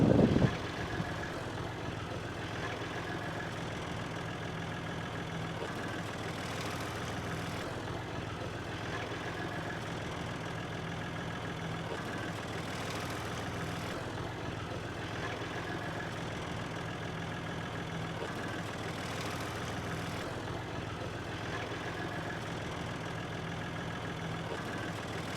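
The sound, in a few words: tractor engine running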